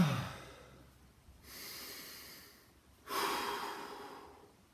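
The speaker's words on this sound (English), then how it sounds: "Breathe deep for recovery now." Deep breathing during recovery after a lower body and core workout: two long, slow, airy breaths, close and fairly soft, with a quiet pause between them and no talking.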